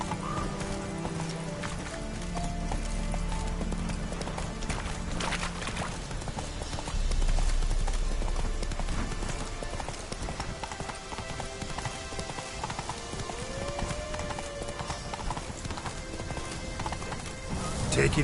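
A horse gallops in The Witcher 3 video game, its hooves beating out a steady, continuous clip-clop with an occasional whinny, all set against a dense game soundscape of music and ambience.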